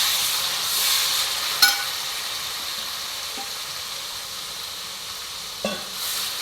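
Jackfruit fries in hot ghee with a steady, even sizzle and hiss up close, broken by two sharp clacks from a spoon or pan.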